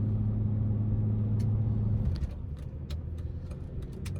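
An old Range Rover's engine rumbles steadily from inside the cabin while driving, a loud low drone that drops slightly partway through, with small clicks and ticks from the car over the top.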